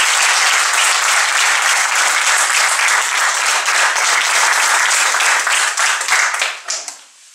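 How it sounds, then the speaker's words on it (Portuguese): An audience at a parish council swearing-in ceremony applauds in a steady, full round of clapping that holds evenly and then fades out at the end. "Eu peço uma salva de palmas."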